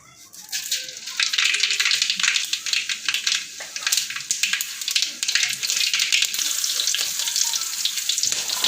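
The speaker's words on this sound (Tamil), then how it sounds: "இப்போ எண்ணெய் நல்லா சூடாகிட்டோடனே நான் கடுகு போட்டிருக்கேன்" Mustard seeds sizzle and crackle in hot oil for rava upma, a bright continuous fizz with scattered pops that starts after a quiet moment and carries on steadily, close up.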